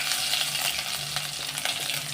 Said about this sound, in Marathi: आणि फोडणीचा छान असा सुगंध येईपर्यंत 2 मिनिटं परतून घ्यायची आहे